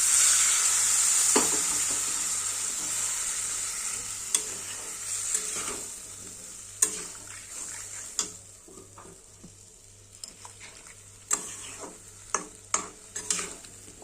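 Water poured into a pan of sizzling curry with rohu fish gives a loud, close hiss that gradually fades, followed by scattered clinks and scrapes of stirring, with no voices.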